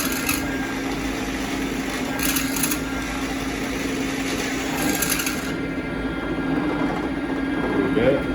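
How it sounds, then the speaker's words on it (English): A drill slowly boring holes in a crankbait belly weight mold, a steady droning whine running the whole time with a few brief higher bursts, close and fairly loud. "Drill these holes nice and slow"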